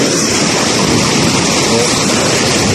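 A loud, continuous roar of rushing, crashing water fills the clip, like big surf breaking close by, with no speech.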